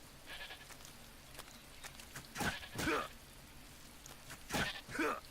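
A goat in the video game Metal Gear Solid 3 bleats twice, each call a wavering double cry, over a soft steady rain-like ambience at moderate distance.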